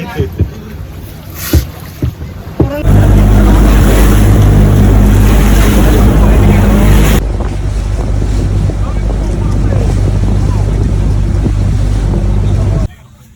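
A boat moves across the sea off Zambales, its loud engine and wind rush roaring steadily as waves wash past the hull, starting after a few sharp knocks and ending abruptly.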